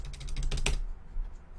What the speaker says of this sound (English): So we'll type in world.